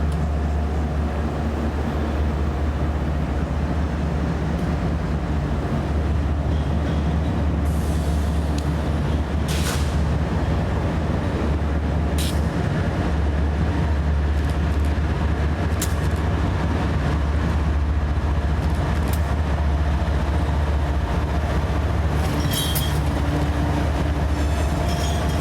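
A long freight train rolls past at close range, a loud continuous low rumble with steady wheel clatter and occasional sharp metallic squeals, holding steady for the full stretch with no voices.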